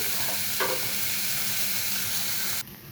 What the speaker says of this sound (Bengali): এখন আমি ভালো করে একটু কষিয়ে নেব কিছুক্ষণের জন্য